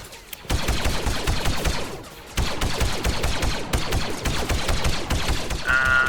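Rapid blaster gunfire in a GMod Clone Wars battle against droids, dense repeated shots firing almost continuously and loud, with a brief lull partway through.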